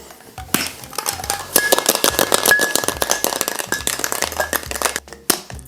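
A large ice cube dropped into a cocktail glass and stirred, producing a rapid run of bright clinks and taps against the glass, close and crisp, thinning out toward the end.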